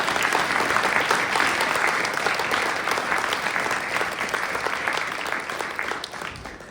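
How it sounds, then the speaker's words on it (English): An audience gives a full round of applause, many hands clapping in a dense, steady patter that stays loud and then slowly tapers toward the end. "Let's give them all a big round of applause"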